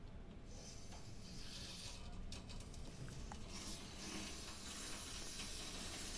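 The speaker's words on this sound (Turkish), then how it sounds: "Su verirken mutlaka bu su sesini duymanız lazım." A quiet, steady hiss of water rushing through pipes as an Alarko Serena combi boiler is filled via its valve, like a tap trickling into a tank, continuous and faint, with no voices.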